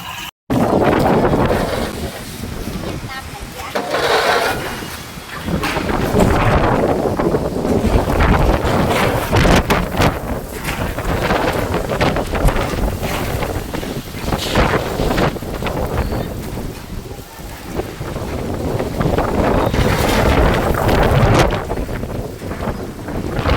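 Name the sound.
strong wind storm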